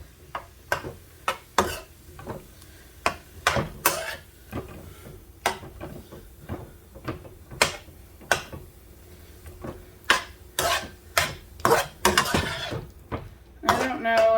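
Spoon stirring food in a pot in a home kitchen, giving a run of close, irregular scraping clinks and taps against the pot that speed up toward the end, with no talk over them.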